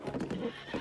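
Horse neighing in the video game Tears of the Kingdom, a short whinny mixed with clip-clop hoofbeats, close and fairly loud, no talk over it.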